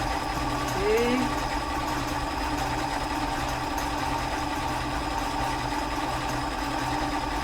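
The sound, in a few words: sewing machine stitching ribbon with a sequin foot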